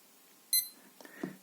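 A single short, high-pitched beep from an FL-201W indoor thermohygrometer as its mode button is held, followed by faint handling clicks nearby.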